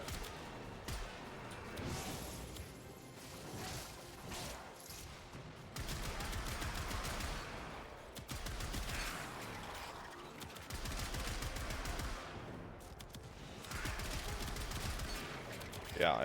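Sniper rifle fire from the Komorex in the video game Warframe, with shots recurring through a dense mix of game effects and music at steady loudness, some talk underneath.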